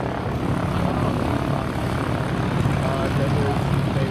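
Engines of two de Havilland Mosquito aircraft flying at an airshow, a loud, steady propeller drone that holds throughout with a crowd and voices beneath it.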